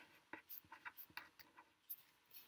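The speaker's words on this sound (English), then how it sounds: "At the top of the paper, I'm going to write the words Jesus" A pen writing words across a sheet of paper at a craft table: close, quiet scratchy strokes in short bursts with brief pauses between letters.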